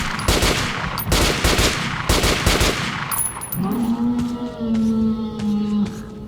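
Creature howl amid gunfire in Metro: Last Light Redux: a loud, rapid burst of automatic shots opens, then a long, wavering, rising-and-falling howl carries on alone as faint clicks and clatter continue.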